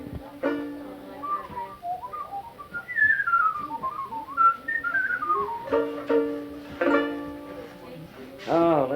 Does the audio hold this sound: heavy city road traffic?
no